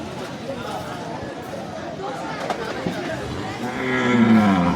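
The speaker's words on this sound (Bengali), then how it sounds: "সুন্দর একটা সাদা গরু" Cattle at a busy Qurbani cattle market in Postogola, Dhaka, mill about under a constant wash of crowd voices, and a loud, close moo swells near the end.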